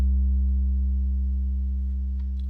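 An 808 bass note from the Wavetable synth in Ableton Live is held on a MIDI controller, giving a deep, loud, steady sustained tone that slowly fades over a couple of seconds.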